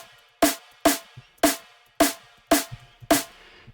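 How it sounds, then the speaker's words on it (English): A layered drum and bass snare, dry with no effects, struck six times at an even pace, each hit a sharp crack with a short noisy tail and a faint low thump after some hits. "It sounds like a layered snare, and that's not something you want."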